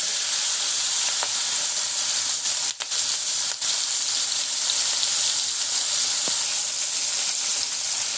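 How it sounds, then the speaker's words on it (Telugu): Onions and chillies fry in leftover oil for a brinjal and dried fish curry, producing a loud, continuous, even sizzle with a couple of brief dips and a few faint clicks, and no voices. "ఇప్పుడు ఆ మిగిలిన ఆయిల్లోనే ఇప్పుడు మనం ఆనియన్స్ చిల్లీస్ వేస్తున్నాం"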